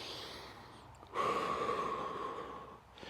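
A single long, deep inhale during a gentle movement exercise, quiet and close, drawn steadily for about a second and a half before fading.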